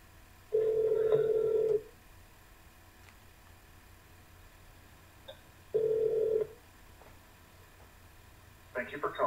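A telephone call to a county health department, Blount County, Tennessee: two long ringback tones a few seconds apart, steady and clear on the line, with a brief burst of sound starting at the end.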